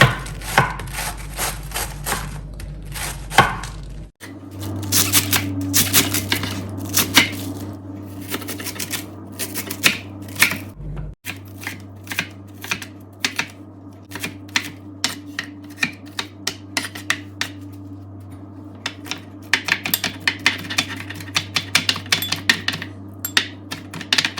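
Rapid knife strokes on a cutting board while vegetables are prepped for Ghanaian spring rolls, a long run of steady, crisp taps at close range over a low background hum.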